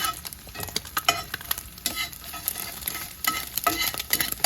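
An egg frying in a seasoned cast iron pan gives a steady close sizzle with sharp crackles and a few scraping touches of a utensil, and no voice is heard over it.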